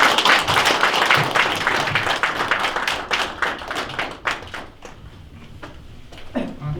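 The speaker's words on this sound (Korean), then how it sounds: "따뜻하고 힘찬 박수로 맞아주시면 감사하겠습니다" Warm applause from an audience greeting presidential candidate Lee Jae-myung at a police veterans' association gathering, many hands clapping near and fairly loud, then thinning into a few scattered claps as it fades out.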